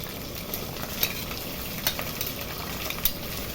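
Onions frying in a pan for stuffed brinjal, a continuous low sizzle with light periodic stirring clicks, no voices.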